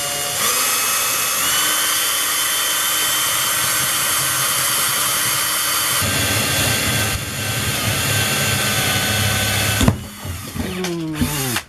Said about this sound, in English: I'm going to drill this one